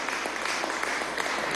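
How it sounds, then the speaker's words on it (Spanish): A brief burst of crowd applause at a working meeting of the Somos Venezuela movement, steady broadband clapping of moderate loudness with no talk over it. "un gran aplauso desde aquí a ese espíritu"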